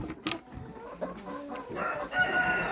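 Hens cluck and murmur close by, a rising drawn-out cackle among softer throaty clucks.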